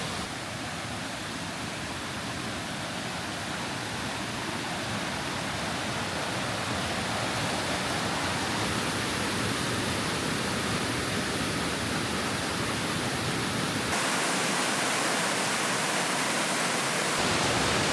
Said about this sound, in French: Ce qui est trop bien, c'est que tu peux aller dans la cascade et ça te fait massage partout.